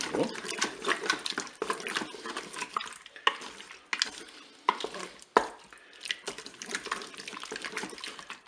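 A spoon scrapes and stirs a tomato-concentrate mixture inside a Cookeo multicooker pot, giving irregular close clinks and soft scraping strokes with occasional sharper knocks against the pot.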